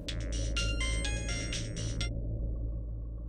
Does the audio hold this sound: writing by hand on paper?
no